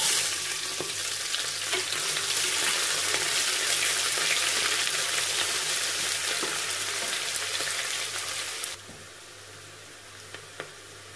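Sliced onions with a dried red chilli and a green chilli sauté in hot oil in a pan, giving a loud, steady sizzle and frying hiss that drops suddenly near the end, with faint stirring clicks.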